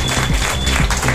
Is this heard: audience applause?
yes